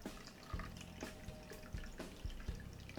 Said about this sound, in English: What I'm going to do is pour in the apple wine and fill this funnel